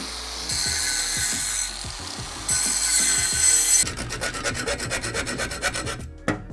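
Steel exhaust pipe on a 2008 Ford Explorer being cut during an exhaust replacement: a harsh, loud, continuous rasping saw sound that shifts partway through into a rapid, pulsing grind before stopping abruptly.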